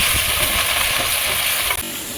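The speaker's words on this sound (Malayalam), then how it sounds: "വറുത്തെടുക്കാം" Loud, continuous sizzling of okra frying in sesame oil, close up, with scraping stir strokes through the pan and a short break near the end.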